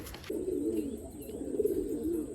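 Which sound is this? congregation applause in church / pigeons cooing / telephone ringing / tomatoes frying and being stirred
pigeons cooing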